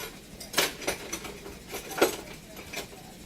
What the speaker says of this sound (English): I'm going to scoop some of this cornbread mix out of each one